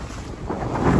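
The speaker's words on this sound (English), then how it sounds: "The whole town is getting flooded out by big-time storm surge." Storm surge floods Punta Gorda, Florida, as wind gusts and rushing waves build in a dense, swelling roar, loud and close with no voices, lasting only about a second.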